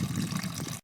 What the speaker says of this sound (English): after you're done draining your coolant